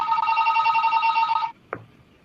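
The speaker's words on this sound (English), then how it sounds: "so I got a phone ringing here" A telephone rings in a steady electronic warble for about a second and a half, then cuts off, followed by a brief clunk as the receiver is picked up, with no talking.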